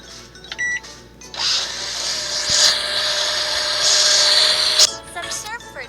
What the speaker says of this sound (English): Then put it in the blender.